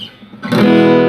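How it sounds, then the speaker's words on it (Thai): A quiet plucked note fades, then a bright strummed chord rings out on an unplugged Ovation CP247 acoustic-electric guitar, sustaining clearly. "อันนี้คือเสียงกีตาร์เปล่านะครับผม"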